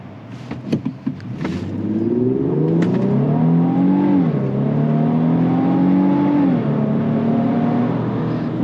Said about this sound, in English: Go ahead and I just want to accelerate so you can see what I'm talking about